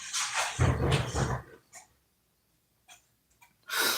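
A pet dog makes odd snorting, hiccup-like noises indoors, in a few short bursts with quiet gaps between them, fairly close and moderately loud.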